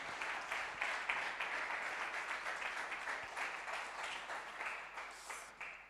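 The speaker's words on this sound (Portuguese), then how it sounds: "Uma salva de palmas para a Ana Correia." Sustained applause from an audience at a Portuguese community event in Düsseldorf, steady clapping filling the whole stretch at a moderate distance without pause.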